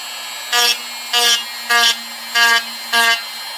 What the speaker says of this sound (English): I use a little Dremel with a rounded burr on there. I go sort of medium speed.